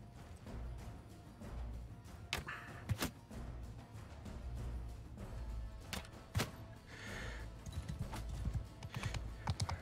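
Horse hooves clip-clop in Mount and Blade: Bannerlord, with irregular quiet thuds and sharper knocks over a low, busy background, heard faintly with no talk.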